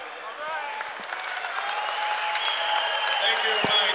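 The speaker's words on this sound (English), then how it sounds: "a nice ovation from the crowd from that presentation from Mike Brady to the family of Captain Anthony Palermo" A crowd's ovation after a tribute presentation to the family of Captain Anthony Palermo, a steady swell of many hands clapping that builds and holds for several seconds, with scattered voices beneath.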